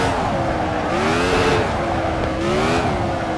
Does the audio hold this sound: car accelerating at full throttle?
yes